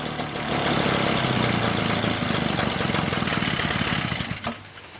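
An Echo PB-403T backpack leaf blower with a carburetor problem runs with a loud, rough, pulsing two-stroke engine sound for several seconds, then drops off abruptly at the end.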